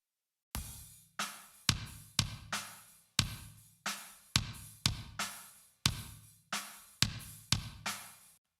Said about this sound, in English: This is the sound of the first microphone on the kick, with processing.